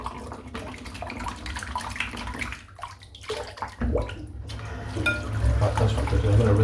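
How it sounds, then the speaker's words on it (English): Tap water runs steadily while shaving soap is rinsed out, a continuous close splashing flow that swells slightly toward the end. "I am going to try and rinse this soap out now"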